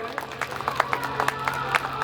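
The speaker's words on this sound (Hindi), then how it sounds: "तालियों की गड़गड़ाहट से अभिवादन करें" Scattered, uneven claps from an audience at an Indian Republic Day speech event, with individual hand claps standing out at irregular intervals over a low steady hum.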